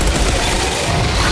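Dense, continuous SMG fire in the shooter game Outriders, a steady loud rattle of rapid shots filling the whole moment without a break.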